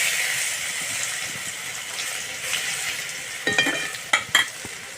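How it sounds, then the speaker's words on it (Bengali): Garlic paste sizzles in hot oil in a wok after a five-spice tempering for a hilsa curry, a steady frying hiss close by, with a few sharp scraping stirs near the end. "এরপর দিয়ে দেব রসুন বাটা"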